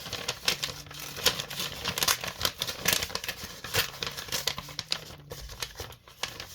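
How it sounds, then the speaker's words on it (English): A large paper mail envelope holding trading cards in a binder page is torn and opened, with close, continuous crinkling, rustling and ripping in uneven bursts and no voices. "let's just open up the envelope here"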